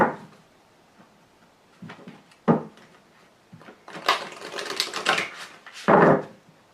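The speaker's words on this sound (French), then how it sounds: "Je vais trier les cartes." Tarot cards are sorted and shuffled by hand in a quiet room, producing soft scattered taps and papery riffles that build into a denser flurry of shuffling before a final brisk burst, with no talking.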